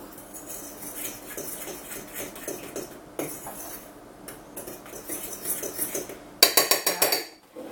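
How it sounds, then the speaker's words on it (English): Seasonings being stirred in a bowl for fried chicken livers: a close, continuous scraping and clinking of a utensil against the bowl, growing into sharper rhythmic knocks near the end. "And stir it around well."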